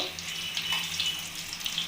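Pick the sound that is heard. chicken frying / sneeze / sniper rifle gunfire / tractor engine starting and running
chicken frying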